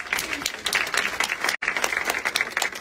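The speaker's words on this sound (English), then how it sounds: "Let's give her a round of applause" An audience at a store's VIP style show claps steadily in a brief, dense round of applause, close and sustained with one momentary break.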